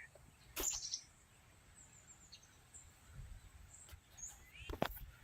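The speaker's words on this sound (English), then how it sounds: "You can hear the birds that probably ate all my cherries." A few scattered bird chirps ring out faintly against a quiet outdoor background, with occasional soft knocks and rustles.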